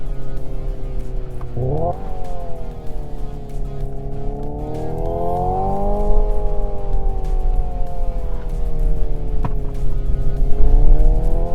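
A Hyundai Ioniq 5 N electric car plays a synthetic engine note from inside the cabin, a loud tonal drone with a sharp simulated gearshift jump early on, then rising and falling revs under road rumble.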